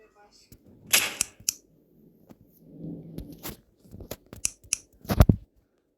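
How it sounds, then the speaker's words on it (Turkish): Sharp gunshots from a video game, a few scattered bursts and single cracks with quiet gaps between them, fairly close. "Silah sesinden sonra"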